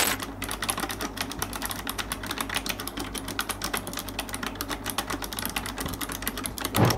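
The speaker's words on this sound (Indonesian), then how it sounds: "Kalian dengar sendiri kan, suaranya itu masih ada clickingnya, tapi memang nggak berisik, nggak seberisik keyboard biasanya." Fast continuous typing on a Razer Ornata V2 gaming keyboard, with dense, quick, soft clicky keystrokes close up and an even rhythm throughout.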